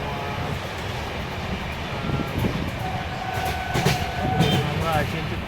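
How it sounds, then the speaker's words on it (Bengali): Kumbh Express train rolling onward just after leaving Liluah near Howrah, a steady continuous rumble of wheels and carriages with faint rhythmic clatter and squeals, heard from on board at constant loudness. "লিলুয়া ছেড়ে ট্রেনটা যাচ্ছে।"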